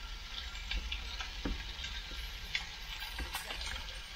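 Pasta goes into a hot pan while cooking in a camper, giving a steady close sizzle with scattered small ticks and pops throughout.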